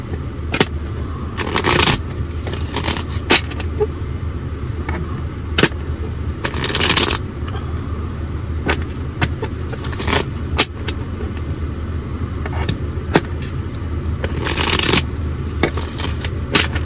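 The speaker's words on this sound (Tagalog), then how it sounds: "Balasahin muna po natin." Tarot cards being shuffled by hand in a bursty, irregular rhythm, close and fairly loud, with riffling bursts recurring across the whole stretch over a steady low background rumble and no talking.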